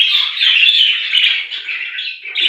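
Young yellow-green budgerigars chirp close by in a continuous, bright, busy chatter that rises and falls without pause.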